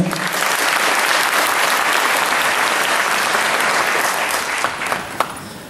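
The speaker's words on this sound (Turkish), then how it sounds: "Bize bu ilahi grubuna bunları öğrettiği için bir alkış istiyorum kendisine." Sustained, full applause from an audience honoring a teacher who taught a hymn group, with a few louder claps near the end.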